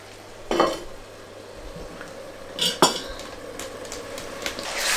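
A spoon stirs salt fish sauce with onions in a pot, giving a few close metallic scrapes and clinks against the pot over a low background hum and gentle simmer.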